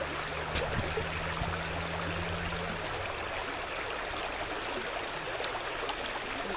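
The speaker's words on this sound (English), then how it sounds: "And now some water." Water splashes and trickles into concrete mix in a footing hole for a tent platform, a steady outdoor pouring hiss with a low hum at the start and a few sharp knocks.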